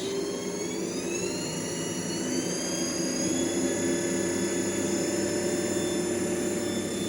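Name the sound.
three-phase motor driving a DC generator, spinning up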